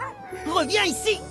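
Tintin's small white dog barks and yips in a Tintin video game, a few quick high barks rising and falling, with a voice calling over them.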